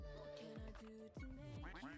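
A cluster of ducks from the Roblox game Duck Army quack repeatedly, the loud, cartoonish calls overlapping and tumbling over each other up close.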